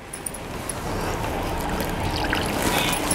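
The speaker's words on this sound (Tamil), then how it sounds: "இப்போ நான் உங்கள் முன்னாடியே ஊற வைக்க போகிறேன்." Water pours and trickles continuously as a red pure cotton saree is put to soak, a steady close splashing wash that runs unbroken without any voices.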